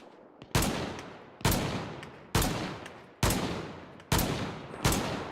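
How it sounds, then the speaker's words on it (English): Six loud rifle shots in the survival game DayZ, fired singly at a steady pace under a second apart, each a sharp crack with a decaying tail, no talk. "I feel like some of those shots should have hit"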